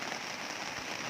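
Rain falls outdoors on a mountainside in summer, a steady close hiss of drops on surfaces with no clear gaps, moderately quiet and without talk.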